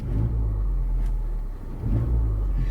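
A car engine idles with a steady low rumble during heel-and-toe downshift practice, dipping briefly before picking back up, close and loud with no talk.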